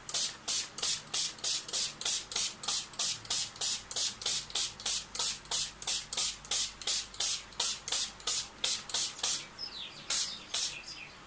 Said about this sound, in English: First you spray it with water so it doesn't soak up all the paint